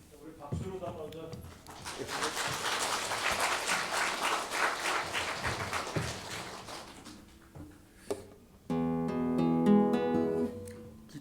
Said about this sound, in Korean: 우리 박수로 다 먼저.